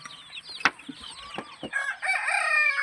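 Desi chickens and month-old chicks cluck and peck-call close by in short sharp notes, then a rooster crows loudly and steadily over them toward the end.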